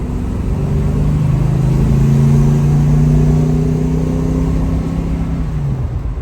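A Plymouth Cuda with a choke problem drives along a road, its engine note rising and falling steadily through gear changes, loud and close throughout with no talking.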